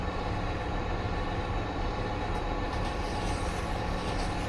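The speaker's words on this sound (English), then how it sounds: "Is that train coming to a stop?" An SD60M-hauled freight train rolls very slowly into Laramie on Sherman Hill, a steady low rumble of wheels and railcars heard from a distance, constant and unbroken throughout.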